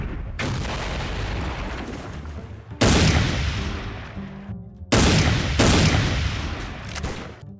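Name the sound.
long-range rifle gunfire in the video game Soldier of Fortune: Payback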